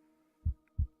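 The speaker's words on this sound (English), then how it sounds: "Ominous heartbeat." Ominous heartbeat from the space survival game Empyrion: two deep, close thumps in quick succession over a low steady hum.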